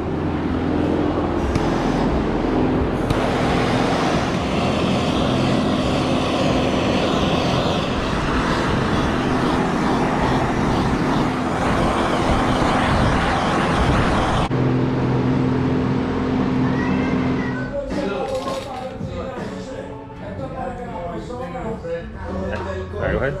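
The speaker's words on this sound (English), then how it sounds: "We're about to make the first nitrous hit on the Jeep." Jeep engine roaring on a chassis dyno during a nitrous pull, loud sustained revving that climbs then cuts off abruptly, followed by quieter idling and voices in the shop.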